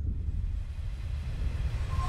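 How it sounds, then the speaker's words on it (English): Ghost train rumble in the horror video game Re:Turn One Way Trip, a steady low rolling drone with hiss on top, continuous and fairly distant. "we're hearing that train again"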